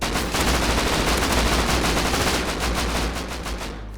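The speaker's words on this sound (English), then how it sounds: "They're attempting to return to the Star Fort but are met with suppressing fire." Rapid sustained gunfire in the video game Rust during a raid on a medieval star fort, loud and dense bursts that fade slightly toward the end.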